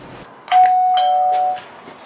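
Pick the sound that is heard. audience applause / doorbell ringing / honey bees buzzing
doorbell ringing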